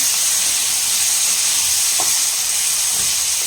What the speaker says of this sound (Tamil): டொமேட்டோ வந்து வதங்கட்டும்